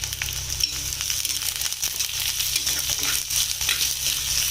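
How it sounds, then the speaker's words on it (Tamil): Chopped onion sizzling in a pan for masala egg podimas, a steady crackling fry with occasional stirring scrapes, close and continuous. "வெங்காயம் நல்லா வதங்கட்டும்."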